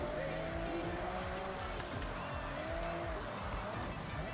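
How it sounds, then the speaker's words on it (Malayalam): Car tires skidding on a wet road in the Forza Horizon racing game, engines revving and shifting pitch with drawn-out tire squeals, fairly quiet overall with a voice talking underneath. "വെള്ളം കൊണ്ടാണ് സ്കിഡ് ആവുന്നത്"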